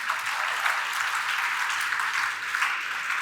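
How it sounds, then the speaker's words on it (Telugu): School audience clapping for students in a hall, a steady wash of many hands applauding together at moderate distance, sustained without talk. "ఏకసంధాగ్రాహులందరికీ ఒకసారి హృదయపూర్వకంగా క్లాప్స్ కొడదాం ఫ్రెండ్స్"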